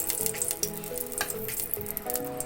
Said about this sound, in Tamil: எடுத்து வச்சுருக்க கடலைப்பருப்பு உளுத்தப்பருப்பு ரெண்டையும் போட்டு நம்ம ஃப்ரை பண்ணிக்கலாம்.